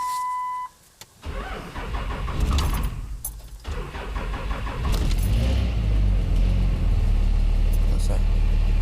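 A high-mileage Cummins 5.9 24-valve diesel truck engine cranks and fires, catching after a short pause and settling into a loud, deep rumbling idle close by.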